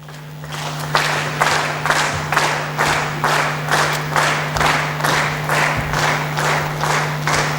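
Audience applause fills a hall at a graduation ceremony as an award is presented, a steady mass of hand clapping with faint rhythmic surges, continuous and fairly close throughout.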